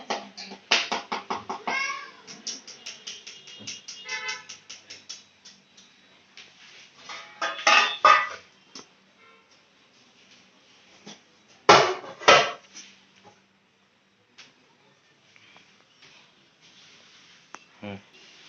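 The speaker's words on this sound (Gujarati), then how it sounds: "તો હાલો આપણે પહેલા ચાલુ કરી દઈએ લોટ સાળવાનું." Flour for dudhi muthiya (bottle gourd dumplings) being sifted through a sieve, heard as rapid, close rhythmic tapping and rattling in bursts, with a few louder knocks and pauses in between.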